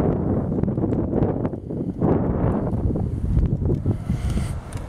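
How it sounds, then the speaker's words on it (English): Strong wind buffets an outdoor microphone in steady, loud low rumbling gusts with a brief lull near the two-second mark, with no voice heard. "windy today. I don't know if this is going to work."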